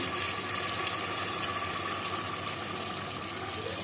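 Water pouring steadily into a pressure cooker over fried goat meat, a continuous rushing splash that stays even for several seconds without any talking.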